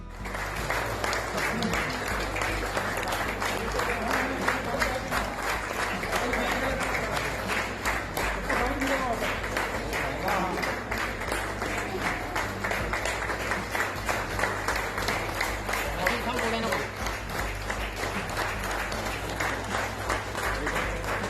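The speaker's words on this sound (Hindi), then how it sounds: "स्टाफ और डीआरएम ने मयूर शेलके के सम्मान में तालियां बजाई" Railway staff clap continuously for a long stretch, dense steady applause with some voices mixed in underneath.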